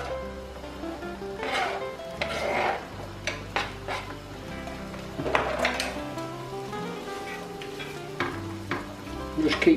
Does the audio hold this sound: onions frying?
yes